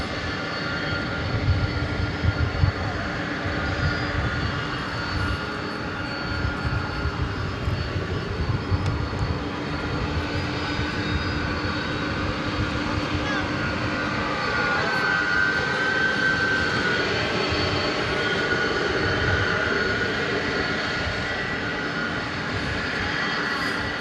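Airbus A350 jet engines at Dallas-Fort Worth International Airport at night, a steady, loud broadband roar with a low rumble that holds throughout without fading, heard alone with no talk.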